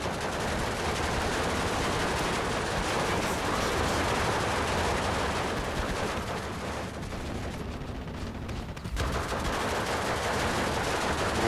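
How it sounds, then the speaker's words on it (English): Machine guns and rifles crossfire in a Steel Division 2 wartime battle, a dense continuous barrage of rapid bursts and scattered shots ringing out for the whole stretch, loud and close, with a brief lull near the end. "The machine gun appears to be in range as well, so we're getting some crossfire."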